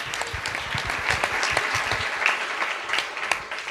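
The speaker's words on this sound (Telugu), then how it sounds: "గట్టిగా చప్పట్లు కొట్టండి ఫాదర్ గారికి ఒకసారి." A church congregation claps loudly for the priest, a dense burst of many hands applauding steadily for a few seconds with no voices.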